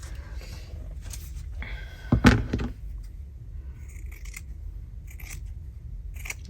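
Scissors snip through fabric during a stitching project, with one sharp, loud cut near the middle and softer handling rustles before and after it, heard close up.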